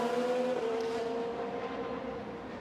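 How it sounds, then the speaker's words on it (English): An IndyCar race car engine screams at high revs during qualifying on the Long Beach street circuit, a loud sustained whine that drifts slightly in pitch and fades a little as the car moves away. "Now Rosenqvist winds it up."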